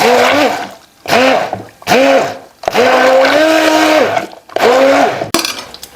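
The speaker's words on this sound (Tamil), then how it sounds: "இப்போ வந்து நான் இதை பிளெண்ட் பண்ணிக்க போகிறேன்" An electric blender blending cooked dal whirs loudly in several short bursts of a few seconds each, its motor pitch rising and falling between brief pauses.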